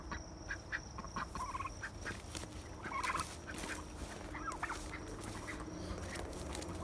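Farm turkeys gobble and ducks quack on a North Idaho homestead, several bursts of calls scattered over a steady outdoor background, moderately close and fairly loud.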